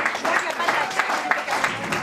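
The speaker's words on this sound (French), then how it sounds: "je vous demande un tonnerre d'applaudissements" Applause for a guest at a slam poetry night, dense overlapping clapping from a crowd that stays steady and fairly loud through the short moment.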